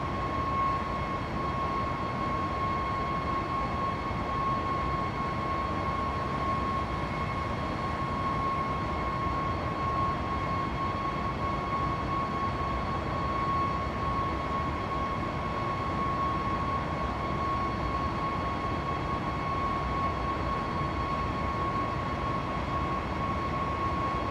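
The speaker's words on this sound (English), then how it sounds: "There's a point where the engine just change in pitch and tone." Jet engines of a Boeing 737 MAX 9 in the climb give a steady, loud cabin roar with a constant whining tone. The sound stays even for the whole stretch and no one talks.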